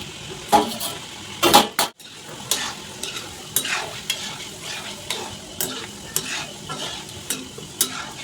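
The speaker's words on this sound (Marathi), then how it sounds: "लो मिडियम गॅसवरच तळायचं हे" Malai kofta fry in oil over low-medium gas, a soft steady sizzle broken by sharp stirring scrapes and occasional utensil clacks in the pan.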